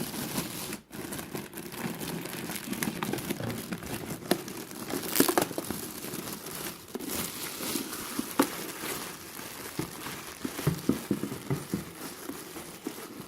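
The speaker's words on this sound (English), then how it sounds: "Let's try and rip this open." Cardboard and plastic packaging around a new Breville toaster being ripped open, with steady crinkling, tearing and crunching that runs close and loud through the whole stretch, with no talk.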